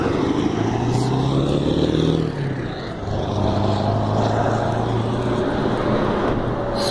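Steady loud roar of traffic on a busy main street, heard on a walk, with engine drone rising and dipping as vehicles pass close by, no speech over it.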